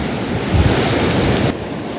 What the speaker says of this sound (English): No, that's the waves